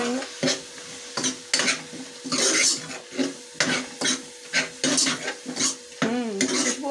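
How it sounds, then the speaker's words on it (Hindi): Keema and spinach seasoned with turmeric get stirred in a pan, a spoon scraping and clinking against the metal in a steady back-and-forth rhythm over a faint sizzle, close and fairly loud. "इसको मैं मिक्स कर रही हूँ।"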